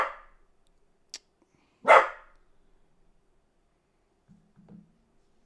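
A dog barks indoors, a short yelp followed by one louder bark, then a faint low growl or whine later; no talking.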